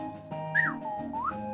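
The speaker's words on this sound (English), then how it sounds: "noise with a slide whistle" A clown at a food stand toots a slide whistle, giving a few brief sliding tones that rise and fall in quick succession against a faint steady background.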